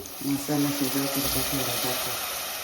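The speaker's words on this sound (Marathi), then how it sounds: "आपण जो तिथं सारण तयार केलं त्याचं पाणी राहिलेला तर आपण टाकून घेऊ" Leftover water from a stuffing mixture poured into a cooking pan, a steady gushing, sizzling wash close up with a voice talking over it.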